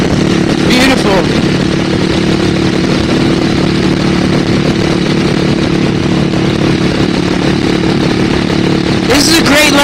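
A Suzuki S40 Boulevard motorcycle engine runs steadily and loudly close by throughout, a constant rumbling drone with brief voices at the start and end.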